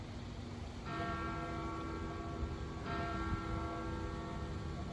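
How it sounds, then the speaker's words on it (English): Church bells ring at San Pietro for the 2:15 bell: two bright, resonant strikes about two seconds apart, each hanging and decaying over a constant background hum, with no voices. "One of the most boring bells of the day, the 2:15 bell."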